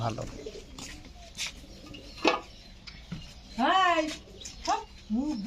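Pigeons in a small loft give soft, throaty coos in short bursts, close and fairly clear, with quiet gaps and a few faint knocks between calls.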